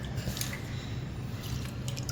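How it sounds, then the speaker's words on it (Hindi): Chicken drumstick being dipped into sparkling water for crispy fried chicken, giving soft wet squishing and dripping with faint fizz, close and quiet over a steady background hiss, without speech. "ये जो मेरा स्पार्कलिंग सा वाटर है इसमें एक इसे देते हैं डिप"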